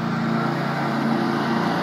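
A Bobcat 48-inch mower with a 15 hp Kawasaki V-twin engine runs at a steady, continuous drone, close and loud, with a low engine hum and no breaks.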